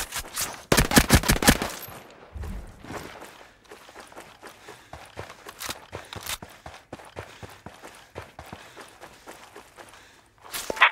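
A burst of loud automatic gunfire opens the scene in Ghost Recon Breakpoint, then sharp scattered shots keep cracking, some near and some distant, along with footstep-like clatter. Another loud volley lands at the end.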